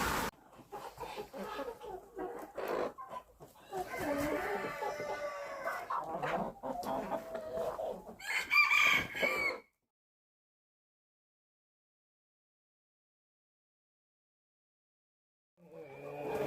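Mixed meat-and-egg breed hens clucking and a rooster crowing close by on a farmstead, busy farmyard chatter for several seconds, then silence before faint sounds return at the end.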